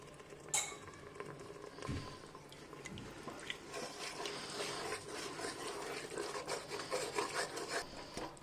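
Mutton stock poured into a haleem mixture of dalia and dal in a cooking pot, making a steady, close, continuous splashing that starts and builds after a few seconds, with no talking.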